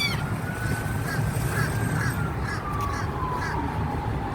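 Seagulls call repeatedly in a feeding frenzy in a shopping-centre car park, loud overlapping cries and squawks over a constant rumble of outdoor background noise.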